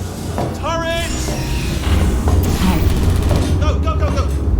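Turrets firing in the video game Portal 2, rapid bursts of gunfire and mechanical clatter mixed with a player's excited voice talking over the action.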